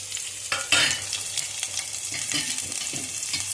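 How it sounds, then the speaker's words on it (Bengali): Mixed vegetables and chopped green chilli stir-fried in a pan for fried rice over low gas, a soft steady sizzle broken by quick scraping stirs and clinks of the spatula, heard alone. "ভালো করে মিশিয়ে দেবো, গ্যাসটা আস্তে করে নিয়ে।"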